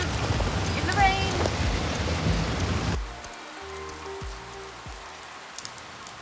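Rain falls steadily at night in the countryside near Siem Reap, Cambodia, a soft hiss with a voice briefly over it. After a few seconds it drops to a quieter patter with a low hum underneath.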